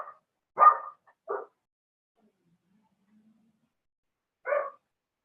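Dogs bark indoors during a quiet yoga session: two sharp barks close together, a pause, then one more bark, each short and clear against silence.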